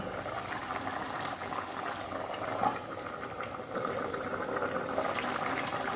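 A fish curry of katla fish with drumstick pieces and potato simmers under a lid, a soft continuous bubbling and hiss, close and even, with a brief louder burble partway through and no talking.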